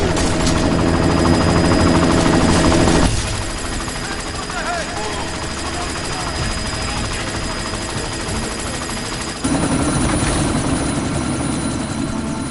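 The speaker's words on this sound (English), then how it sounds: "You've got to stop that chopper." Helicopter from a video game, its rotor and engine drone loud and steady with a heavier burst of noise at the start and again near the end, mixed with game gunfire and effects.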